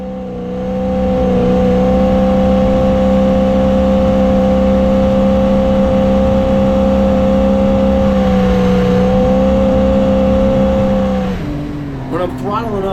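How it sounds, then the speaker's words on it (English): A carbureted car engine throttles up toward its four barrel, a loud steady drone with a slight wavering stutter, then dropping off with talk near the end. "When I'm throttling up, I'm getting this like stutters as it goes"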